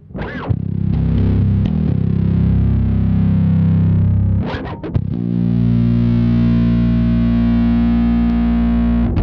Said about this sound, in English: Next up is our distortion pedal.